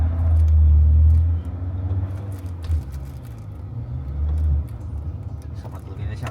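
A Ford car pulls away at full throttle with no braking, only steering, a deep engine rumble rising and falling through the run, heard from inside with people talking over it.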